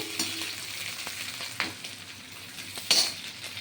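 Vegetable patty filling of grated coconut, green chillies and five-spice seeds sizzling in hot oil in a pan, a steady frying hiss with occasional stirring scrapes and clicks, close and fairly loud.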